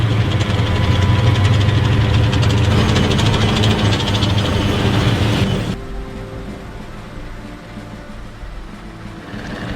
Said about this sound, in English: Then came the roar of engines and tanks and trucks